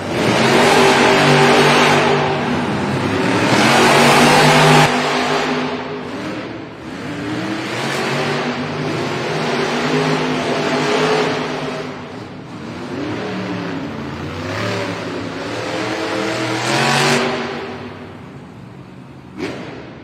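Monster trucks in an arena round of racing, engines roaring and revving loudly and continuously, with surging throttle swells and a big crowd-filled atmosphere, no talk heard.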